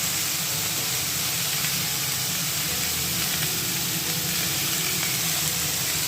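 Vegetables frying in a pan with salt, turmeric and coriander powder, giving a dense, even sizzling hiss that holds steady throughout with no pauses or voices.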